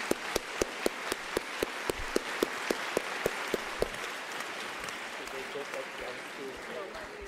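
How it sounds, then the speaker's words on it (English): An audience applauds former President Thabo Mbeki at a South African event, a sustained wash of clapping with one near pair of hands beating a steady, loud rhythm for several seconds before fading into the crowd. "Let's give a round of applause to the President."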